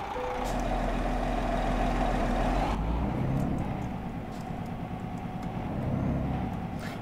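Heavy truck engine droning steadily in a truck-driving game set on snowy Balkan roads, a continuous low rumble with a brief shift partway through and faint higher clicks, no talk.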